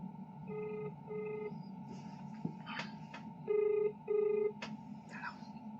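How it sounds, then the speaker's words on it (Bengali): A phone call's ringback tone sounds in evenly spaced double pulses, two pairs a few seconds apart. It is steady and moderately loud over faint background voices and room noise. "তো এখন ফোনটা করি"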